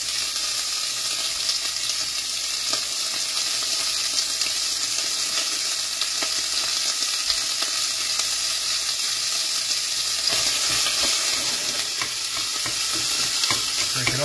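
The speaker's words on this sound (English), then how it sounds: "I'm going to cook this until the fat renders out a bit." Sausage lengths render their fat in a frying pan, giving a steady, close, loud sizzle and crackle that runs unbroken throughout, with a few soft stirring scrapes near the end.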